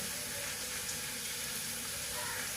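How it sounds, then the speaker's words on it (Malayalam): Sliced onions sautéing in a pan for a mushroom and potato curry give a faint, steady, even sizzle that runs unbroken throughout. "ഈ സവാള നമ്മളിട്ട് ഈ സവാള ഒന്ന് നന്നായിട്ട് വഴറ്റി വരാൻ വേണ്ടിയിട്ട്"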